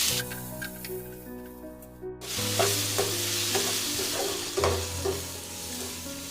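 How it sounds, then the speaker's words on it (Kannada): Peppercorns and tomatoes fry in a pan for a chicken gravy. A quiet rattle at first gives way to a steady, loud sizzle with occasional stirring scrapes, and no voices. "ಮತ್ತು ಮೆಣಸಿನಕಾಳು ಇದನ್ನು ಕೂಡ ನಾನು ಸೇರಿಸಿ ಅದನ್ನು ಕೂಡ ನಾನು ಫ್ರೈ ಮಾಡ್ಕೊಳ್ತಾ ಇದ್ದೀನಿ"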